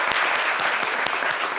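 An audience applauds a dress designer on a fashion show, with brisk, continuous clapping and a few sharper individual claps standing out close by, lasting only a moment.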